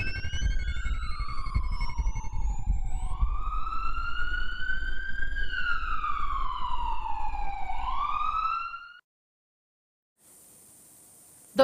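Ambulance siren wailing loudly and close, its pitch sweeping slowly up and down for about nine seconds, then cutting off abruptly into silence before a brief hiss of noise.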